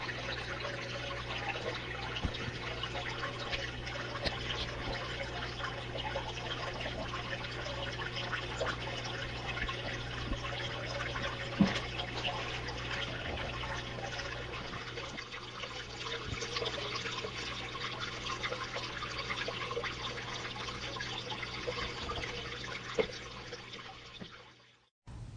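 Water rushing steadily through a deep well fine gold sluice, a continuous loud wash and trickle that runs unbroken for the whole stretch, close by and without talk.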